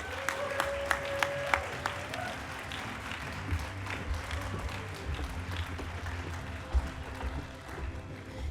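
Audience applause at a city awards ceremony, a room of clapping that starts with a few distinct sharp claps and settles into a steady, moderately loud patter, with faint voices underneath.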